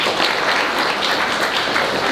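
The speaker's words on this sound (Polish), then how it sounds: "Poprosimy o brawa." Dense, loud applause from an audience fills the room at a prize announcement during a cultural review in Niesułków, Poland, continuous and even throughout.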